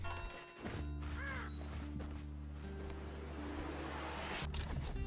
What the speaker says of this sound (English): Might as well have the bird go out.